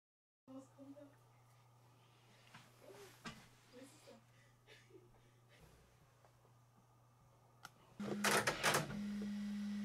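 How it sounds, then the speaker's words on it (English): A Bambu Lab H2C 3D printer powers on: faint clicks and a low hum give way to a loud, steady whirring of fans and motors that starts abruptly near the end. "The printer powers on."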